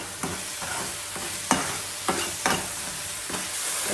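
Mushroom curry cooks on a low flame, a soft continuous sizzle broken by several sharp scrapes and stirs of a spoon in the pan, close up and without talk.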